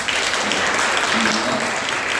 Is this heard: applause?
yes